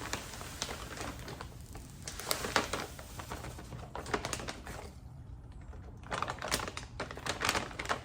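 Someone handles a bag of vermiculite while starting seeds, making quiet, irregular crinkling and clicky rustling in uneven bursts with a brief lull, close by and without speech.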